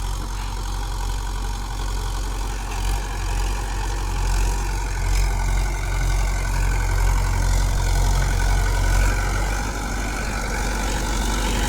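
A 2000-model Mahindra 575 DI tractor engine runs while driving, a steady loud low rumble with constant mechanical drone and no pauses throughout.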